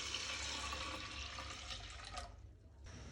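Water running and splashing into a pot while lentils are washed in a kitchen, a steady close pour that briefly cuts off near the end before resuming.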